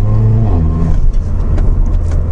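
A Mercedes-Benz A45 AMG engine revs hard and loud from inside the car, its pitch climbing and then dropping as the paddle upshift lands, and strong acceleration continues afterward.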